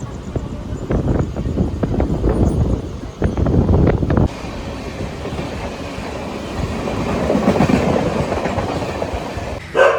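A Mumbai suburban local train to Virar rumbles along with rhythmic clattering of wheels on rails, loud and close, with wind noise buffeting the microphone.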